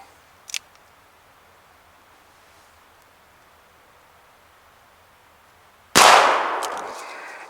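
A single sharp gunshot from a Colt Lightning clone rifle fired outdoors, loud and abrupt with a trailing decay, after several seconds of near-quiet broken only by a faint early click.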